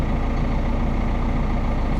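Massey Ferguson 6713 tractor engine idling, heard from inside the cab: a steady low diesel rumble, even and continuous, fairly quiet with no voices.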